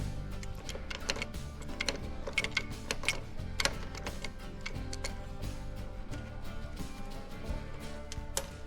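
Screws being backed out of the AC/DC converter power supply on a PS21 pellet stove, giving a steady run of small mechanical ticks and clicks with no talk over them.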